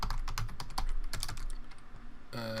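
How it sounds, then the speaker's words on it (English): Keystrokes on a computer keyboard entering a search keyword, a quick run of close, crisp clicks at an uneven typing rhythm, ending in a brief tonal chime. "We can just type in here conservatory"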